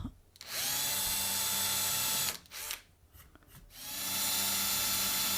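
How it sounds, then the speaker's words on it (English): Power drill boring marked holes into acoustic guitar wood during a replica rebuild, two sustained whining bursts separated by a short pause, close and loud. "obviously drilling the holes that I marked out beforehand"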